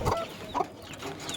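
Native desi chickens kept on a rooftop cluck in short bursts close by, a few separate calls with brief quiet between them and no talk.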